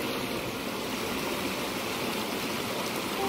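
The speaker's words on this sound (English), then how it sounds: "and the streams and the water falling down the streams." Mountain stream water rushing along a walking trail on Cradle Mountain, a continuous broadband hiss and gurgle that stays steady and fairly loud throughout, with no voices.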